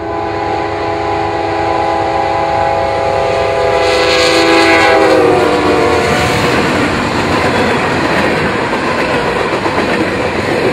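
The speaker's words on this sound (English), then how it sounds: "We barely make it there when this eastbound train comes through" A loud eastbound CSX freight train, led by a GE AC4400CW locomotive, rumbles steadily past close by in Girard, Pennsylvania, its horn blaring for several seconds before giving way to continuous rolling wheel noise.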